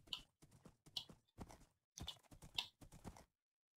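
Horse hooves clip-clopping in the video game Minecraft, a quick series of soft clustered steps in bursts over about three seconds, close and clear, then silence.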